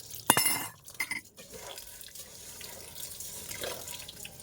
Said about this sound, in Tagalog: So, hugasan natin ang ating bigas.